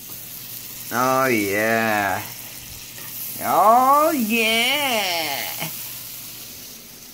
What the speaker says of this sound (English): Oh, you hear that sizzling, guys? Come on, listen to it.